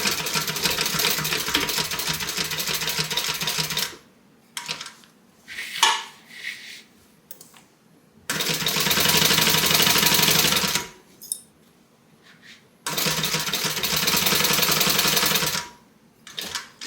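A sewing machine stitches the side seam of a tote bag in three loud, steady bursts of rapid clatter, each running a few seconds, separated by quiet pauses with faint handling of the fabric.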